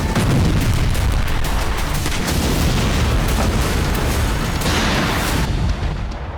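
Heavy FAB-1500 bomb explosions in the Ukraine war, a loud sustained roar of blasts and rumbling booms filling the whole stretch before easing slightly at the end.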